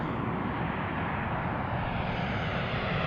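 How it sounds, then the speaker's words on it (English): Large airliner arriving to land at DCA, heard from Gravelly Point in Washington: a loud, steady, close engine roar passing directly overhead, filling the whole stretch with no other sounds. "Next arrival on runway"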